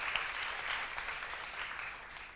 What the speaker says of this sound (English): So a big round of applause for Florentina.